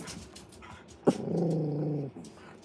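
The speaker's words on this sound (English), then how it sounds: "Dogs really complicate my recording." Indoor dogs give one sharp bark-like onset that turns into a sustained low growl lasting about a second, close and fairly loud, then quiet background hum.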